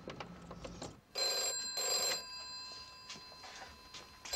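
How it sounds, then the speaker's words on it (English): Old-style telephone bell rings in two bursts indoors, moderately loud and close, with a quieter room tone between the rings and no speech over them. "The phone's ringing."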